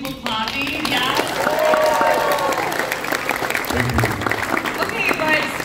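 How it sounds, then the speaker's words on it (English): An audience applauds at an anime convention Q&A panel, a sustained crowd clapping that runs throughout while a voice talks over it. "I see people clapping."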